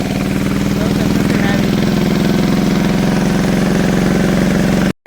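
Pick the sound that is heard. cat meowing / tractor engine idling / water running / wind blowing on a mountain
tractor engine idling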